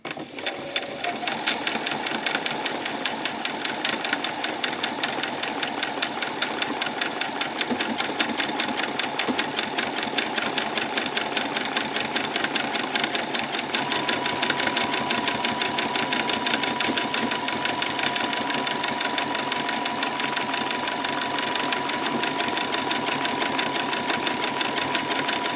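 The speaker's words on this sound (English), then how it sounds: "I know that my needle is going to go actually into the fabric to start me off" A sewing machine stitches steadily through bodice fabric for a spring outfit, its needle keeping up a fast, even mechanical hum close by that runs without a break from start to finish.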